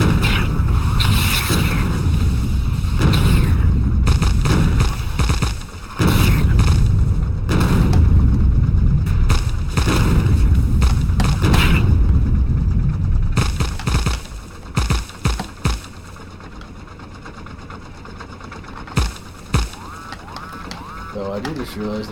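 Factorio gameplay with a cannon firing explosive shells gives heavy, repeated booming blasts that roll through most of the stretch, then thin out into scattered, sharper hits near the end.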